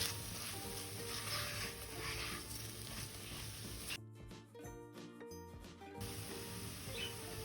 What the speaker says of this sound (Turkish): Arpa şehriyeni ekledikten sonra birkaç dakika daha kavurma işlemine devam edelim.